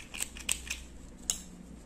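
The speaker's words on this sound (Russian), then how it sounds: "Теперь нить я обрезаю," Scissors snip through knitting yarn at the end of a chunky-knit sweater, several quick, crisp, close clicks in a quiet room with no talking.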